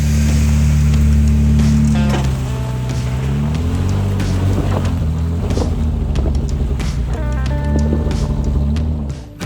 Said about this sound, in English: I actually hit a spot where I'm still in two-wheel drive, but I'm gonna take another pass at it. Threw all kinds of mud up on my Jeep.